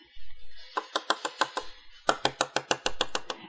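A card tapped against a surface to knock off extra black embossing powder, two quick bursts of sharp, even taps, about a dozen in all, close and crisp against quiet.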